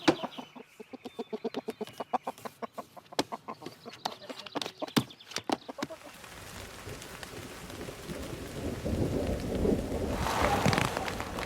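Farm chickens give a string of short rhythmic clucks and squawks through the first half, then the sound turns to a steady, rising wash like rain with low rumbles.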